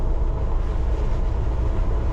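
A London Underground Piccadilly line train runs non-stop through Stamford Brook station in a brief, steady, loud rumble of wheels and motors.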